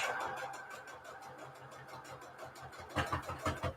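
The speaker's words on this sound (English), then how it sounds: "I sewed through the Peltex. You could hear it. It makes a different sound than when you're sewing on the fabric." A sewing machine stitches through stiff Peltex 72F interfacing, a faint, rapid, steady mechanical chatter of needle strokes that grows louder and more pronounced near the end, with no voices.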